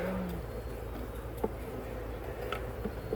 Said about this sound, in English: I've got some bees on the ground over there.